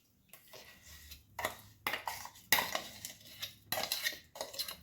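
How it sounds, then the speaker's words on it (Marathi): A spoon stirs a hot fenugreek and edible gum laddu mixture in a metal pan, with repeated scraping strokes and clinks in an irregular rhythm, close and fairly quiet. "हे खूप गरम असतं, त्यामुळे आपल्याला हे हाताने न हे करता एखाद्या चमच्याच्या सहाय्याने छान मिक्स करून घ्यायचं आहे."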